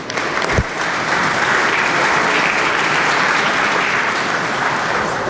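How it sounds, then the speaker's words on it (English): Steady, dense applause fills a West Virginia House of Delegates chamber, loud and continuous throughout, with no talk over it. "Please give them a warm round of applause."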